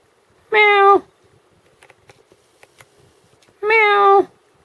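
An African grey parrot imitates a cat, giving two clear, drawn-out meows a few seconds apart, close and loud, with faint small noises and quiet clicks in the gap between them.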